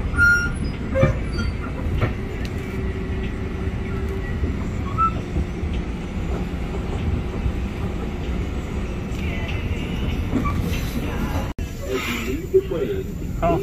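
A commuter train bound for Tarrytown rumbles steadily along the rails, a continuous low rolling drone heard from inside the carriage, with faint clatter and brief squeaks on top and a short dropout near the end.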